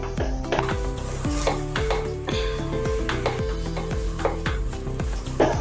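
A spoon scrapes rhythmically around a pan of cauliflower korma with garam masala and onion greens, the steady stirring strokes loud and close, with no voices.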